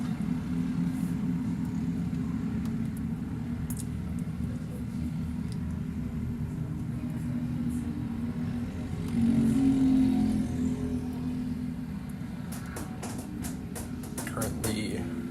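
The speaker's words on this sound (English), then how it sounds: "12 karts on track." Several racing karts run on a circuit, their engines a steady, fairly distant drone with a brief louder swell midway as they pass, and a commentator talks over it.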